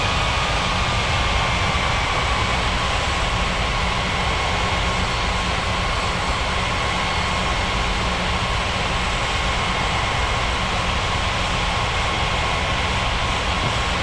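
A video-game airplane taking off at Springbrook International, heard as a steady, loud, broad engine roar with a faint rising whine that holds for the whole stretch, with no talking.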